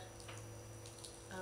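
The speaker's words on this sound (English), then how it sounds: "We're going to gently add water to the center" Water gently poured by hand onto the centre of laid-out wool felting fleece, mixed hot and cold with a drop of washing detergent; a faint, soft, steady trickle close by in a quiet room.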